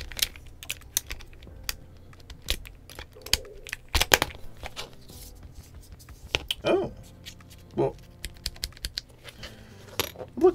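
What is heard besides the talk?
Leobog K81 mechanical keyboard typing and stabilizers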